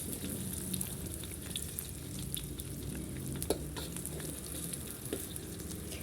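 Salted fish sizzles and spits in a little oil in a wok, a steady close crackle with occasional sharper pops and light stirring scrapes, no talking.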